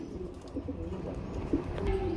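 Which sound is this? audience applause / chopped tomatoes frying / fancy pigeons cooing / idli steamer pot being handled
fancy pigeons cooing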